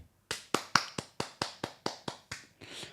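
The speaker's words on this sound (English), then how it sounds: "Clap for Liverpool" Steady hand claps from a few people, about ten sharp, even claps in a row, close and fairly loud with no talk, cheering Liverpool as Premier League title winners.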